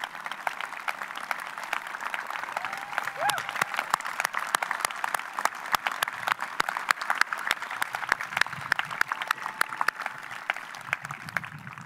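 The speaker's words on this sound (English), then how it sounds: "please join me in giving our extraordinary faculty a round of applause as I ask them to stand and be recognized." Commencement audience at a college ceremony applauding the faculty, steady dense clapping across the whole stretch with sharp individual claps near the microphone and faint murmuring beneath.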